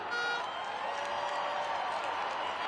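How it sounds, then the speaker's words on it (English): A crowd at a Monster Jam monster truck event in Cardiff cheers and applauds for the truck Thor's backflip attempt, a dense steady roar of many voices and clapping heard at a distance throughout. "Make some noise for Thor."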